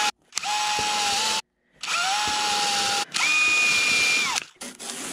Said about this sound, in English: there are the spots where I'm going to pre-drill for the screws